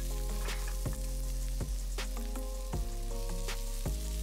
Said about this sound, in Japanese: 人参と玉ねぎを加えて、大体約1分ぐらい炒めてください。